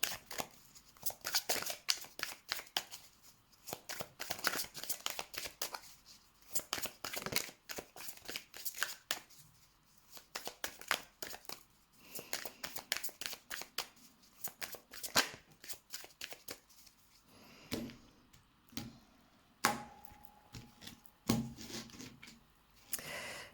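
Oracle cards being shuffled for a reading: repeated crisp riffling and sliding bursts in an irregular rhythm, close and fairly quiet, continuing throughout with no talking.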